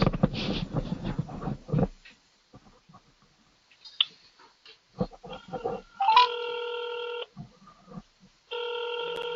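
A telephone ringing on a callback during an online tutoring call: electronic ringing tones in two bursts, the first short and the second continuing to the end, after a stretch of low noise and scattered faint clicks.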